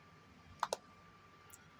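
Two quick, close clicks from a mouse on a laptop, a short double click set against quiet room hiss, with a faint tick following a moment later.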